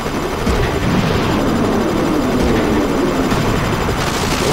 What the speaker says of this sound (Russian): Вот у Эмма вот это выстрел.